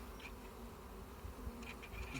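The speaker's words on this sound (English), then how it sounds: "So let's knock a couple of the bees off." Honey bees buzz around an opened beehive, a soft, continuous droning hum with a few individual insects passing close.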